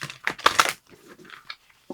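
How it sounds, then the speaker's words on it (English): Spirit animal oracle cards being shuffled in quick crisp bursts of riffling and flicking, close up, with short pauses between. "Now let me shuffle some other spirit animal oracle cards"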